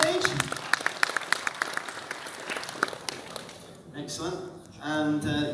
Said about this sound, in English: Could you give him a round of applause as he joins you on stage?